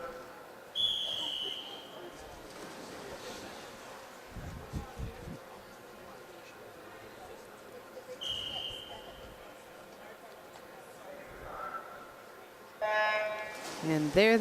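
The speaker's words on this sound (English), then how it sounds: "Whistle for the divers to get in the water." At a high school swim and dive meet in a noisy indoor pool, a referee's whistle gives short high blasts over crowd murmur, then a longer blast near the end to send swimmers into the water.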